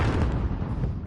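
A grenade blast in a shooter video game, a short heavy low boom with a rumbling tail, loud and close, heard alone without talk.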